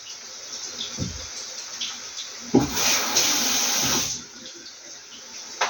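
A kitchen tap runs water into a sink, a steady splashing stream that swells for a few seconds in the middle, with quieter room noise and brief knocks around it.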